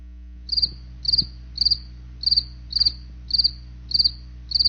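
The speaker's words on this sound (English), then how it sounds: "Speaking of crickets" Crickets chirp in a steady, evenly spaced rhythm, eight bright trilled bursts about every half second over a low background hum, with no voices.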